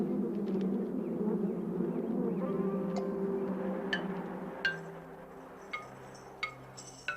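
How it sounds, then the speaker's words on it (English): Italian honeybees buzzing in a steady, dense drone that holds throughout, with scattered faint clinks and taps sounding over the hum near the end. "The bees common in the United States are derived from the Italian honeybee,"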